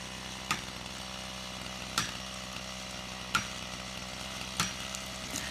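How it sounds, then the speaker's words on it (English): A chainsaw runs steadily while felling a tree in an Alaskan village, cutting toward a wedge. Its continuous drone carries sharp metallic knocks about every second and a half, moderately distant. "As soon as the saw blade is far enough into the tree, he inserts and hammers a wedge."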